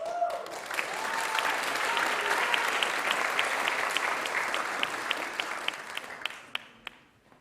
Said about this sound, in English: One more round of applause for our highest honors.